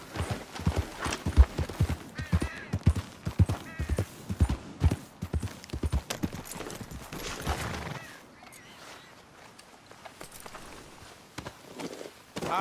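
Horse hooves pound in quick galloping rhythm in a Red Dead Redemption game, loud and close for about eight seconds, then thin out into softer, sparser hoofbeats.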